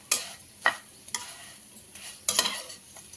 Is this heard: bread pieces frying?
yes